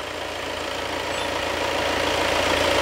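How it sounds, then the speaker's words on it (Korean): Volkswagen Tiguan engine idling with the hood open, a steady mechanical hum and clatter heard close up and gradually growing slightly louder, with no voices over it. "엔진 후드를 여니까 소음이랑 진동이 꽤 많이 느껴집니다"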